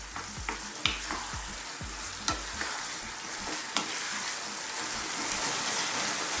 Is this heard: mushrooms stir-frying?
yes